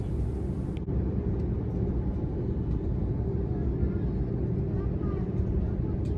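Rolls-Royce Trent 700 engines on a wide-body airliner spooling up for takeoff, a steady loud low roar heard from inside the cabin, constant throughout with a faint rising whine.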